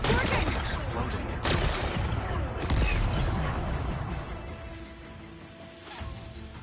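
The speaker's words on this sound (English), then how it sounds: "Gotta blast away some rocks, so I can expose the power cell." Explosions blast away rocks in The Elder Scrolls Online, producing a dense crashing, rumbling roar that swells and then slowly fades over several seconds.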